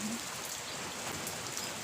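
Steady rain falls in a rural Thai home setting, a continuous dense hiss of drops on surfaces lasting the whole moment, fairly close and without voices.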